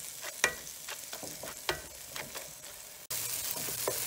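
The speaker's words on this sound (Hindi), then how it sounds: "ये जो पोटैटो मैशर होता है, इससे इस तरह से मैश करके यूनिफॉर्म कर देंगे।" A potato masher presses and stirs cooking masala in a pan, with repeated soft squelching thumps at an irregular rhythm, then a steady sizzle rising at the end.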